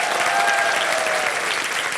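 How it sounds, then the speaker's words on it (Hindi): An audience applauding at a stage show, a dense, steady wash of clapping from a large crowd, close and loud for the whole stretch. "तालियां इसके लिए।"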